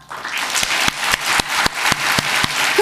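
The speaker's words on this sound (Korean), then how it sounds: "자, 영광의 박수는" A church congregation claps steadily during a Sunday worship service, dense applause filling the room with a few louder individual claps punctuating the steady roar.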